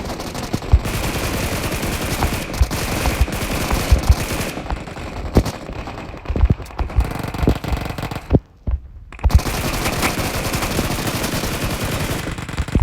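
Gunfire in PUBG Mobile: dense, loud bursts of rapid automatic shots crackle almost continuously, with a brief near-silent gap before the firing resumes, and no one talking.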